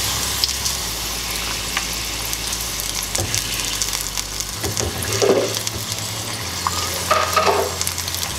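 Crab rangoons frying in about two cups of corn oil in a saucepan over medium heat: a steady, dense sizzle and crackle throughout, close and fairly loud, with no voices.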